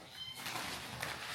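A pet cat named Mikey gives a short meow, fairly faint and close, heard alone without talk.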